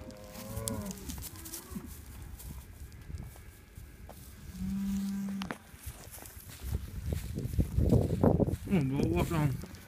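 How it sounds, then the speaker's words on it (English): A T138 bull, son of Rotokawa 688 out of a prized cow, gives deep, loud moos near the end, with an earlier low bellow and someone speaking at the start over outdoor farm noise. "This is the T138 bull, son of Rotokawa 688, and out of Lakota's 29K."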